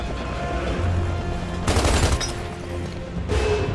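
Rifle shots in Gears of War 2 ring out over a low rumbling game ambience, one sharp burst near the middle and another toward the end, fairly loud.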